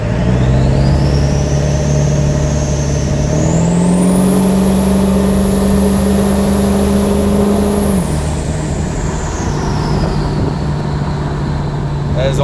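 A built Ford 7.3 PowerStroke turbo diesel 4x4 pickup with a 4R100 transmission pulls at quarter throttle on an old country back road, its engine drone climbing steadily with a rising turbo whistle that holds, then drops back as the load eases.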